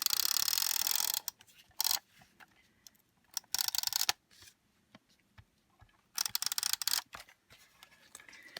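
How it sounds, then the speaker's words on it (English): A tape runner dispensing adhesive onto an embossed card piece, giving short bursts of crisp close scratchy rasping separated by quiet gaps with small clicks, no talk. "I'm just going to put tape runner on it."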